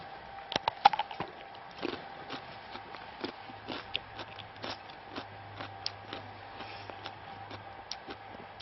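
Biting and chewing a crunchy fresh cucumber: quick, crisp crunches close to the mic, irregular and repeated, with a faint hum underneath.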